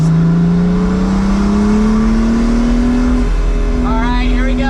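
A $5M Pagani Huayra Roadster BC pulls hard in second gear, its engine note climbing steadily and loudly from close by, with a voice speaking over the roar near the end.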